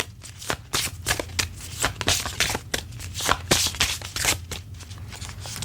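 Oracle cards shuffled and handled in a run of crisp riffling snaps and soft slides, close and fairly loud, with a steady low hum underneath and no talking.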